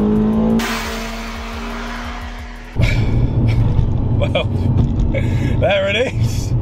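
A tuned Toyota Altezza RS200 engine revs hard, rising in pitch with a roaring, throaty surge, and a voice speaks briefly over the engine noise.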